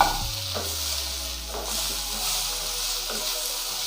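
Vegetables sauté in a pan with a steady, close sizzle and hiss, punctuated by a few soft stirring scrapes, with no voices.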